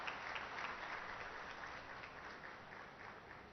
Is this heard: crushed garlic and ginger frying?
no